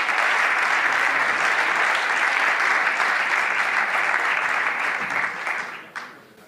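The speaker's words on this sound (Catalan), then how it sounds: "rebem amb un aplaudiment Vicent Baidal." An audience at a lecture on medieval Almogavar warriors applauds to welcome the speaker, a steady, full round of clapping that tapers off near the end.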